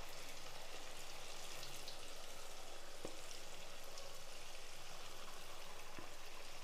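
Battered baby corn pieces sizzle in hot oil over a medium flame, a soft, steady crackling hiss with a couple of faint clicks.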